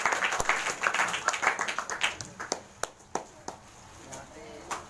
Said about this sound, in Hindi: ताली बजाओ इनके लिए